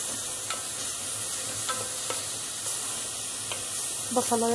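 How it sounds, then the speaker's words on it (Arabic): Grated onion sautéing in a small knob of butter with a little oil, cooked toward light gold for spinach pasta: a steady, close sizzle with occasional soft stirring clicks and scrapes, no talk. "بشوحها كده لحد ما يبقى لونها ذهبي خفيف"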